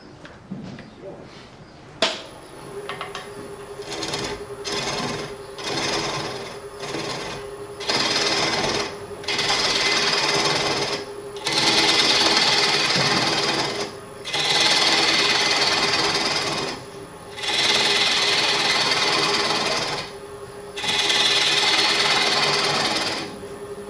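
Bowl gouge pressed against a bench grinder wheel for sharpening, a steady whining grind in repeated bursts separated by short pauses, close and loud, with a constant motor hum underneath.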